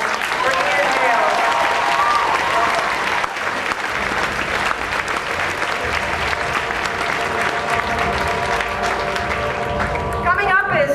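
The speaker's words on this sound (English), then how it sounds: "Let's have a round of applause for Ian Gale." Sustained applause from a convention crowd at DragonCon 2007, dense clapping filling the room for the whole stretch with a voice speaking over it at times.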